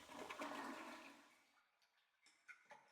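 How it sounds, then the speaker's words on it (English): A toilet flushing in the survival horror game Silent Hill: Origins, a loud rushing gush of water that fades out, followed by a few faint ticks and drips. "I flushed the toilet."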